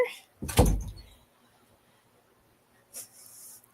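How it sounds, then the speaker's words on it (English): A door swings shut indoors with one solid close thud, then after a pause a softer hissing scrape as it settles or latches. "I just need to close this door."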